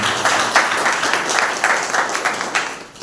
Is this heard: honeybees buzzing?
no